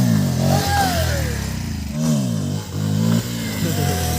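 A motorcycle revving hard during a wheelie stunt on an evening ride, the engine note swooping up and down in repeated surges, loud and close.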